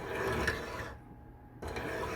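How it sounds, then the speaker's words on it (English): A metal two-finger ring rubbed carefully against a belt sander, giving a steady close grinding rasp that drops away briefly in the middle and resumes. "I'm just gonna rub it on my high dollar belt sander"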